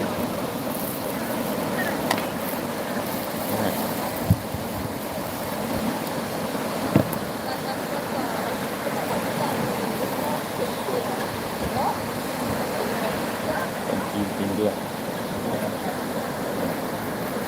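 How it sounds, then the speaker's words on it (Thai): Ocean waves wash steadily onto the shore in a continuous broad roar with faint wind, while tourists talk indistinctly in the background. "ฟังเสียงคลื่น"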